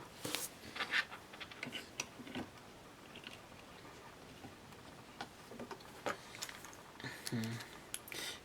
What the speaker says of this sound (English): put a couple of screws in there